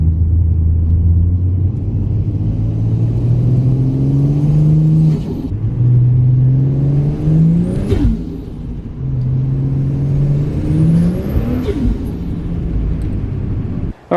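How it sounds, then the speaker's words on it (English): Nissan R33 engine running and revving hard, a loud close rumble rising through repeated throttle pulls in three long sweeps with brief drops between them. "You guys have to hear this car. It sounds insane."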